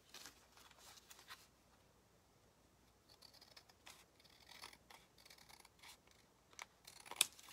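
Quiet, crisp scissor snips trimming card come in scattered short bursts, close by, with a sharper cut near the end.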